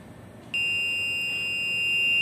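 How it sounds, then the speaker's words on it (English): A ship's off-course alarm goes off during a bridge test, a sharp, piercing electronic tone that starts abruptly after a moment of low hum and holds steady and loud without breaking. "Now alarm is coming. Acknowledge it."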